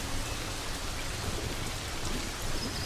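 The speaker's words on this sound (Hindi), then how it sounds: "सूखी घास पर पानी की बूंदें पड़नी शुरू हो गई हैं" Raindrops falling on dry grass in the Serengeti: a dense, even hiss of rain pattering close and steady throughout, with a faint low rumble beneath and no voices.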